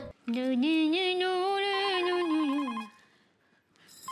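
A telephone rings with a warbling electronic tone, one long sustained ring that stops, then begins again faintly at the end.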